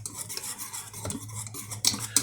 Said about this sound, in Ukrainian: Зараз замішаємо, накриємо плівкою, відставимо на 30 хвилин